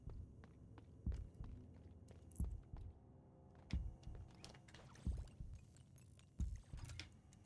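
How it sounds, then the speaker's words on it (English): Heartbeats sound in the video game MIO as regular low thumps about every 1.3 seconds, paired as soft double beats under faint ambient rumble. "I hear heartbeats."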